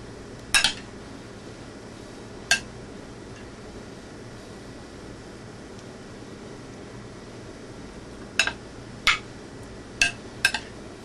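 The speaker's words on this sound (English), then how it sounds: "we're going to mix basically about a half a cup of our cilantro in. We're going to mix it all up." A spoon clinks against a bowl while shrimp ceviche is stirred with cilantro, a few sharp scattered taps over a quiet background hiss, with a short double clink near the end.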